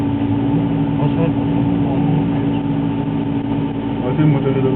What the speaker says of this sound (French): Ah, c'est le moteur d'origine.